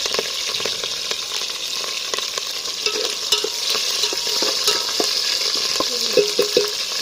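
Green chillies and whole spices crackle and spit in hot oil for a mutton curry cooked outdoors over a wood fire, a steady broadband sizzle with sharp pops scattered throughout, close and fairly loud, no talking.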